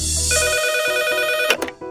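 A telephone rings in an office with a steady electronic ringtone for about a second and a half, then a short clatter as it is picked up.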